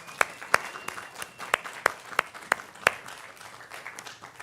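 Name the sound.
audience applause for the quinquennial couples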